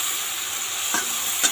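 A paste of white mustard and green chili sizzles steadily in a hot pan, with a couple of brief scraping stir strokes near the end.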